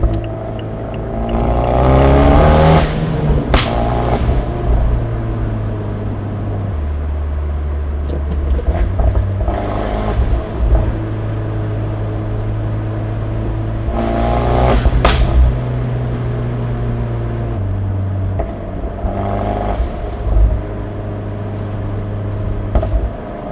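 Abarth 124 Spider with a Phase 2 tune revving hard on throttle during a midnight cruise, engine and exhaust surging in several loud climbing pulls separated by lower droning lulls, heard from inside the car.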